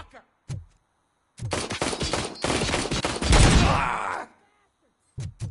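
Rapid bursts of gunfire from the Robocop video game, a dense barrage of loud, close shots lasting a few seconds, with brief shouting voices before and after.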